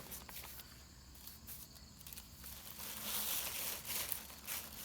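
Folded newspaper and paper flyers crinkle and rustle as they are stuffed into a plastic grocery bag, a soft, continuous crackling close by that swells louder toward the end, with no talking.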